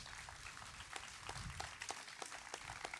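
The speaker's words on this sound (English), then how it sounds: "So let's give him a big round of applause." Scattered audience applause at an outdoor park dedication for a concert conductor, fairly faint and distant, with a few distinct sharp claps standing out from a soft background wash.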